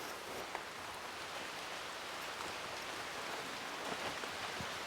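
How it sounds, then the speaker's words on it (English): Steady rain moving in over a Puerto Rico rainforest, a dense continuous hiss of drops on leaves that holds even and fairly loud throughout, with no voices. "Looks like the rain's coming in, too. It looks like it. You can hear it coming."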